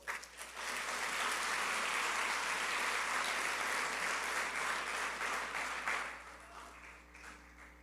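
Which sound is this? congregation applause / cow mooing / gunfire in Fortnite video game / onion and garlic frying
congregation applause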